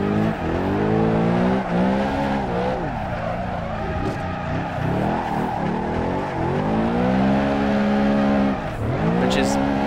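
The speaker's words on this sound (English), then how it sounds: "This engine, it is a V8, but it's a high revving V8, so you gotta rev the nuts off it all the time" A BMW E92 with a high-revving V8 in the Assetto Corsa racing game, engine note rising and falling as revs sweep up and down through gears and slides, loud and continuous with tire squeal mixed in.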